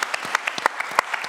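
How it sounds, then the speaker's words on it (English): A small audience claps after a film screening, a sparse run of individual handclaps about seven or eight per second, close and distinct rather than a full roar, with a brief voice near the end. "You can applaud for a wonderful film like this,"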